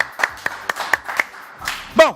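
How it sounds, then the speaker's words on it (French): A few separate hand claps from a French television studio audience, spaced irregularly and fairly close, ending in a brief burst mixed with a voice. "Alors on applaudit très fort Divine Cathy qui est là au tout début de l'émission."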